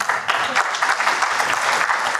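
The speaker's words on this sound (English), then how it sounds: "I think that deserves an applause." Audience at a law event giving steady applause, many hands clapping evenly for a couple of seconds, fairly close and fairly loud, no voices over it.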